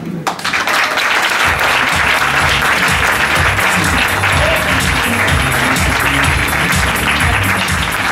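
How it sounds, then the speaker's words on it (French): A theatre audience applauds loudly after a comedy impressionist's sketch at a semi-final show, with dense, sustained clapping that fills the whole stretch at an even level. "On peut l'applaudir encore très très fort."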